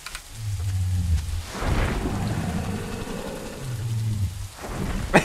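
Rain and thunder in the survival game The Isle: steady rainfall hisses throughout while low rumbling thunder rolls twice, one rumble early and another near the end, with no talking.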